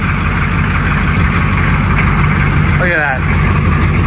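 A 1985 GMC Suburban diesel engine idles after a cold start through dual exhaust, a steady loud low rumble that runs throughout while a person speaks briefly over it.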